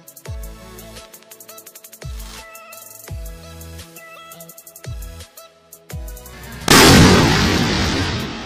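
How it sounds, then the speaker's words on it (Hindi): Aloo bomb firecrackers set off for Diwali: a series of sharp booms about a second apart, each ringing briefly with echo, then a loud sustained hissing rush near the end. "आलू बम का धमाका काफ़ी अच्छा था।"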